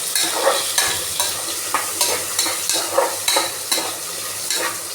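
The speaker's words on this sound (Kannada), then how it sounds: "ಕ್ಯಾರೆಟ್ ಸ್ವಲ್ಪ ಸರಿಯಾಗಿ ಫ್ರೈ ಆಗಲಿ ಎಣ್ಣೆ ಒಳಗೆ." Carrots frying in oil in a pan while being stirred, with a steady sizzle under repeated scraping strokes of a spoon against the pan, about two per second, close and clear without talk.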